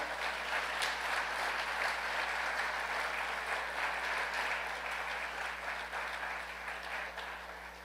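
A church congregation applauds during a morning celebration service: steady, dense clapping from many hands fills the room at a moderate, slightly distant level, with a low hum underneath and no talking.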